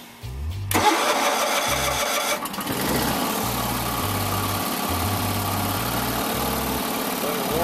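An old engine with the choke pulled cranks briefly, catches and starts, then settles into a steady, loud idle as it warms up, with a low rhythmic chugging throughout.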